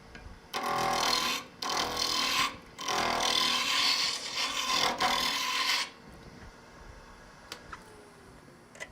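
Wood spindle work turning on a lathe at 2,300 RPM gives a loud, rasping scrape in several bursts with short gaps, then stops, leaving a quiet hum and a few faint ticks.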